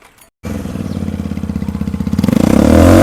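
A Bajaj CT110X 100cc motorcycle fitted with a modified silencer starts up abruptly and revs. Its loud, pulsing exhaust note climbs steadily with throttle, alone and close.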